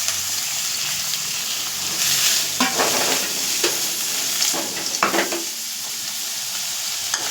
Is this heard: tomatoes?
yes